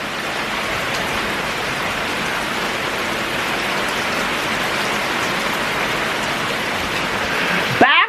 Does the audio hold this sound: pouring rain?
yes